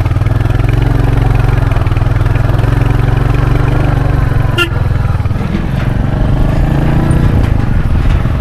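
A motorcycle engine runs steadily and loud close by while riding across a suspension bridge between Nepal and India, with a brief sharp rattle partway through and a rougher, shifting rumble afterward.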